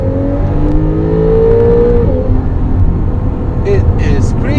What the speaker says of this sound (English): Now it's a 3-liter boxer twin-turbo engine, and it is a lot more powerful.